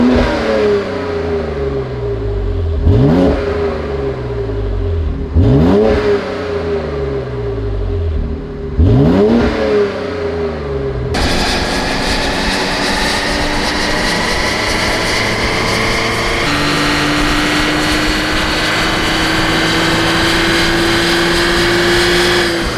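A 2019 BMW X4 M (F98) with the S58 engine, tuned to 611 hp with RaceChip, gives several sharp revs from idle, each rising and dropping, then a loud sustained high-rpm drone.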